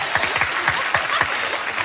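Studio audience applause on a 1985 television show: bright, continuous clapping from a crowd, fairly loud, with an irregular patter of individual claps throughout.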